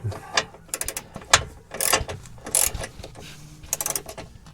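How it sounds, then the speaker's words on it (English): Torque wrench clicking while tightening anti-roll bar clamp brackets to a cross member during a poly bush install, with bursts of ratcheting clicks in quick uneven clusters, close and fairly loud. "I'm going to torque it up now. Some real clicks this time."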